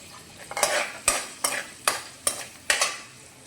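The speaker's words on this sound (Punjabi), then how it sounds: "ਤੇਲ ਹੁਣ ਜਿੱਦਾਂ ਹੀ ਗਰਮ ਹੁੰਦਾ ਇਹਦੇ ਵਿੱਚ ਆਪਾਂ ਬਰੀਕ ਕੱਟਿਆ ਹੋਇਆ ਲਸਣ ਪਾ ਦਿੰਦੇ ਆ" Finely chopped garlic fries in hot oil for a pasta dish, a soft sizzle cut by six regular scraping strokes of a spatula across the pan, close and rhythmic, with no talking.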